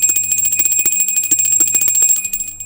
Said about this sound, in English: So we always cleanse with a bell.